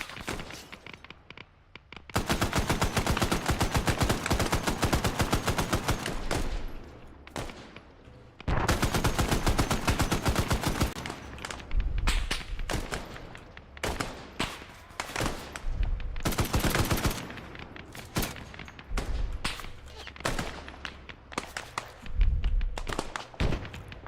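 Sustained automatic gunfire in a co-op military video game operation on Chernarus, long loud continuous bursts followed by scattered single shots and short volleys, close and dominant with little talk.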